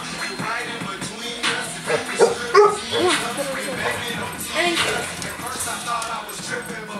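A dog barks and whimpers with short yips and whines at close range in a home, mixed in with people talking over it.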